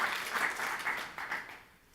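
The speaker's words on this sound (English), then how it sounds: "Let's give them a round of applause" An audience at a USC scientific talk applauds the events team. The clapping is soft and somewhat distant, continues steadily, then fades toward the end.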